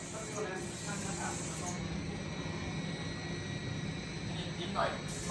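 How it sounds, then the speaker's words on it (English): A spray gun coats ukuleles one by one at a Level Ukulele factory, producing a steady, loud, continuous hiss with faint background machinery and no pauses. "how we spray each one by one"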